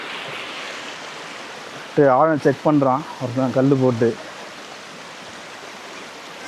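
Water flows steadily at the Cholamala waterfall stream in Wayanad, Kerala, a broad, even rushing wash that runs throughout, with someone speaking briefly over it partway through.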